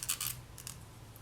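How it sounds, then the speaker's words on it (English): Scissors snip off leftover thread ends while assembling a polymer clay red rose necklace, a couple of quick close metallic cuts in the first moments, then quiet. "just snip off the excess,"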